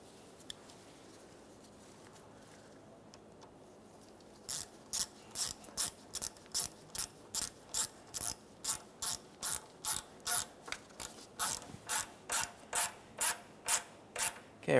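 Ratchet wrench tightening a hose clamp on a power steering return line of a 2004-2008 Ford F-150, about 4 s of quiet then a steady run of sharp, close ratcheting clicks in even strokes.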